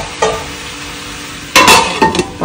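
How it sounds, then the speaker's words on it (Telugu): Spinach seasoned with salt, turmeric and chili sizzles and is stirred in a pan, with a soft steady fry under sharp scraping stirs near the end and no talk. "సాల్ట్, పసుపు, కారం వేసేసుకొని మనము ఈ పాలకూరని మగ్గనిద్దామండి."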